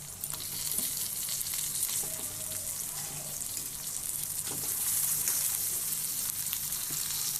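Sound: boiled potatoes and pointed gourd added to frying pan

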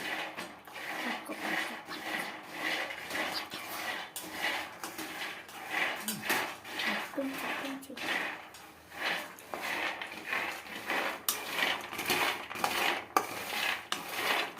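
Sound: peanuts being roasted and stirred in a pan

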